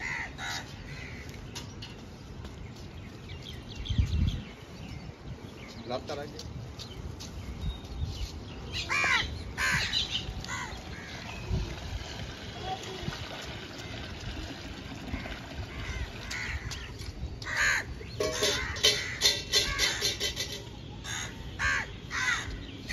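Crows gathering to be fed grain, lentils and sev, cawing repeatedly at close range in a loose, overlapping chorus over steady outdoor background noise.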